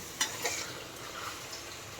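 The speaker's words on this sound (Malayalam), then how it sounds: "നമുക്ക് ഇനി ചിക്കൻ ഇട്ട് കൊടുക്കാം നല്ലതുപോലെ ഇളക്കി" Chicken frying in a pot for dum biryani is stirred, giving a faint, low sizzle with a couple of soft clicks from the utensil against the pot.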